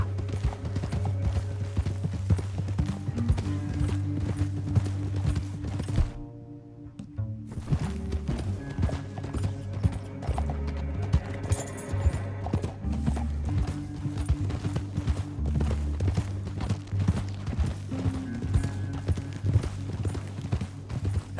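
Rhythmic clip-clop of horse hooves moving at pace in the video game Red Dead Redemption 2, continuous and close, with a brief gap partway through and faint background music.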